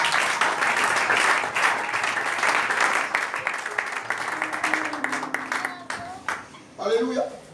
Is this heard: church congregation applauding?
yes